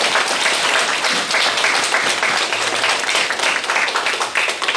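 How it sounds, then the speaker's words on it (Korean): Congregation applauding at a Catholic healing seminar, dense sustained clapping from many hands filling the room, fairly loud and even throughout. "박수"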